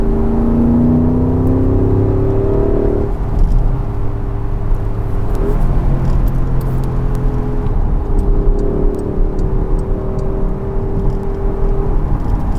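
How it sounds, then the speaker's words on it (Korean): A Porsche Cayenne Coupe Turbo, a 550-horsepower SUV on the autobahn, drones steadily through its exhaust, with tones that swell and shift as the engine revs, loud and continuous with no talking. "계속해서 웅웅거리는 이 배기 사운드를 들을 수 있죠"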